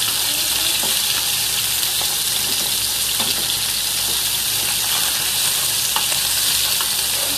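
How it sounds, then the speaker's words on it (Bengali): Local fish frying lightly in a pan, a steady broad sizzle throughout with scattered small pops and crackles, close and fairly loud, no voices. "একদম হালকা করে ভাজবো, যেহেতু দেশি মাছ হালকা ভাজলে ভালো লাগবে।"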